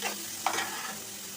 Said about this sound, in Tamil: வெங்காயம் பாருங்கள் நல்லாவே குக் ஆகிடுச்சு நல்லாவே வதங்கிடுச்சு